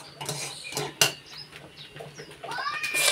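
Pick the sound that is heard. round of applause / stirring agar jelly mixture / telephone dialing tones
stirring agar jelly mixture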